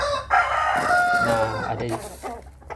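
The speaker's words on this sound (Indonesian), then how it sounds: "Ini ayamnya sudah besar-besar semuanya" Grown chickens kept in a cage, a rooster crowing loudly up close with hens clucking around it, the crow rising and fading over a couple of seconds.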